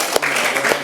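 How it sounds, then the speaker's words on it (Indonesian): Short burst of classroom applause for a student discussion group after their presentation, a dense patter of many hands clapping together, loud and close, lasting under a second. "Beri aplaus untuk kelompok 1."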